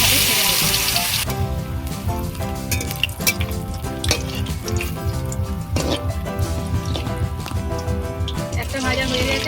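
Cabbage pieces dipped in gram flour batter frying in hot oil, a steady crackling sizzle that starts after a brief hiss and continues throughout under background music or talk.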